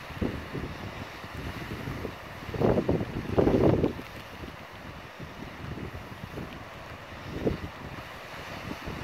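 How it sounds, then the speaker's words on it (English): Strong wind buffets the microphone in rumbling gusts on Lewis and Harris, Scotland, swelling loudly for a few seconds before easing, then gusting again near the end. "Really windy, quite spectacular."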